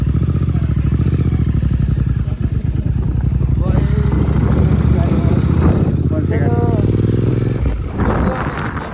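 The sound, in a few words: Royal Enfield GT 650 motorcycle riding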